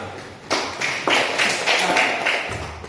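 A classroom group claps in a few rhythmic bursts, with loud, close hand claps arriving in distinct pulses about half a second apart before breaking off near the end.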